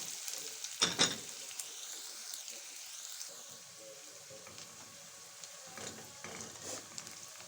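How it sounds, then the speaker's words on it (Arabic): Onions frying in a pan for Alexandrian-style koshari make a faint, continuous sizzle broken by a few louder bursts of stirring, with no one speaking. "احمر البصله بس شويه كده"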